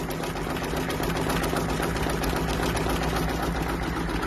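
A Baby Lock Capella embroidery machine stitches a letter through puff foam and topper for 3D embroidery. A steady, rapid mechanical whirring and needle clatter runs close and constant throughout, with no voices.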